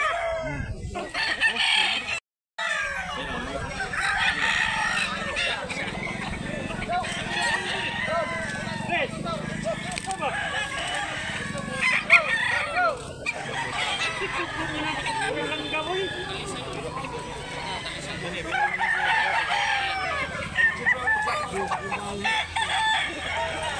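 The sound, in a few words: rooster crowing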